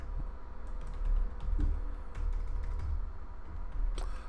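Quick, uneven keystrokes on a PC keyboard attached to a Mac, clattering close and faint with irregular rhythm and occasional heavier key thumps.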